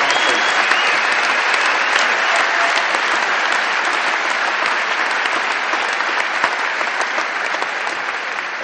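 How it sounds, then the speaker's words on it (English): Loud, dense audience applause for the sponsors at a bodybuilding championship event, continuous and even throughout the clip with no speech on top. "let's give a big hand of applause to all of our sponsors"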